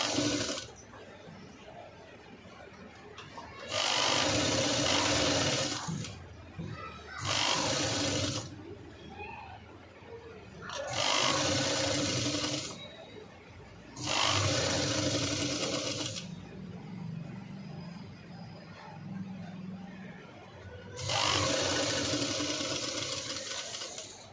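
A sewing machine stitches the neckline of a V-neck cut-work blouse in about five separate bursts of rapid, close whirring. A person speaks quietly in the pauses between runs.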